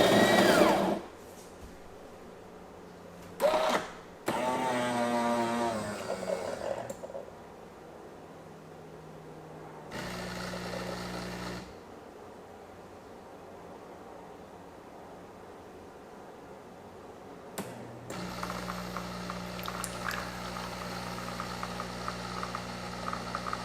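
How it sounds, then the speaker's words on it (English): A fully-automatic espresso maker grinds beans and brews a shot, running in separate bursts: a loud grinding whir, a pause, then steady humming pump and brewing noise that swells again near the end, with no talk. "And here's what brewing that shot looks like."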